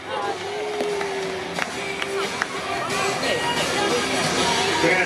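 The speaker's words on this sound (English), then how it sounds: "Big round of applause for the pierogi run." A crowd at a baseball stadium cheers and applauds in a broad, sustained roar that swells toward the end, with a voice over the public address and some scattered whistles mixed in.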